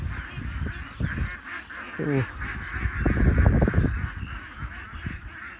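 A large flock of domestic ducks kept on farmland in winter in Shahjadpur, Sirajganj, calls in a dense, continuous clamour of honking quacks at moderate distance, with a brief burst of harsh calls midway and soft talk underneath.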